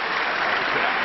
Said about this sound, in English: They're both facing off to the applause